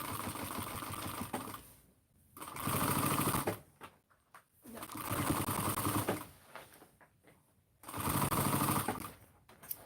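A sewing machine runs in three loud, sustained bursts of rapid mechanical stitching while sewing a basting stitch, with short quiet pauses between runs and no voices.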